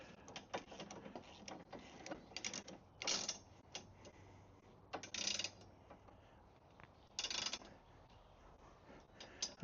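Fittings on a Rippa R13 Pro folding top are tightened down, giving a series of soft, close mechanical clicks and ratcheting bursts with short pauses between, faint against a quiet room.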